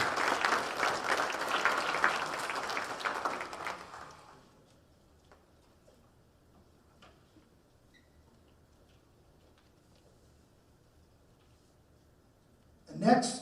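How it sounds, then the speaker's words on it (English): At a high school athletic awards event, the audience gives the Lions football team a loud burst of applause that fades out after about four seconds, followed by near silence and a brief swell of sound at the very end. "One more round of applause for Lions football."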